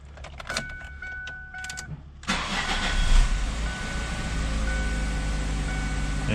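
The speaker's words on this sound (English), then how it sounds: "now we're going to start the engine" A 2002 Ford Focus engine cranks and catches at about two seconds, then settles into a steady idle that continues to the end, preceded by faint clicks and a brief electronic chime.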